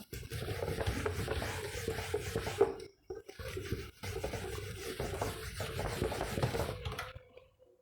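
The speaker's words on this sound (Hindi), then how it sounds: "तो इस चीज को हम लोग यहाँ पे रब करते हैं, मिटाते हैं" An eraser rubs writing off a board during a maths class, a close, continuous scrubbing sound in two long bursts split by a brief pause, ending in silence.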